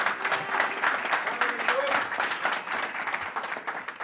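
An arena audience at a martial arts fight show in a Christmas theater venue at Galatsi Olympic Stadium claps in a steady, dense wash of applause, with someone speaking over it through a PA.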